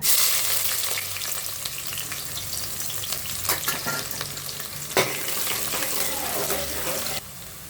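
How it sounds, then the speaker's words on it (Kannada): Chopped onions hit hot oil in a pressure cooker on a home stove for a chickpea and potato gojju, giving a loud, steady sizzle with stirring scrapes and a few clinks, close up with no talking. "ಎಣ್ಣೆ ಕಾದಿದೆ ಈರುಳ್ಳಿ ಹಾಕೋಣ"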